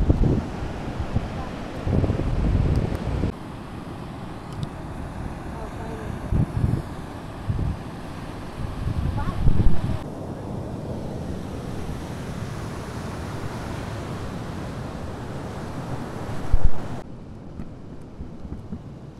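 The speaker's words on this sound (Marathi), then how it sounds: "एकदम शांत असं समुद्र आहे हा, बघा." Sea waves and wind on a quiet beach at Guhagar, a steady roar with gusty microphone buffeting and occasional louder surges.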